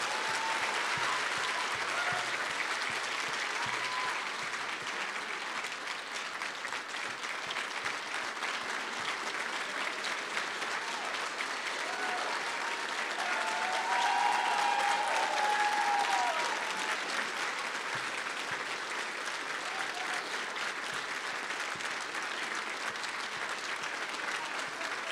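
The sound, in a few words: audience applause at a dinner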